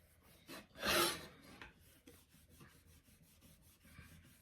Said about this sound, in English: I'm going to rub that off. And see, it comes right off when you rub it with the alcohol.